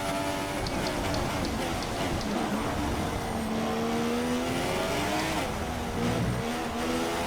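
Formula 1 race cars in the F1 2016 video game at the Russian Grand Prix, a loud continuous engine whine with several cars' tones sweeping up and down together in a close pack.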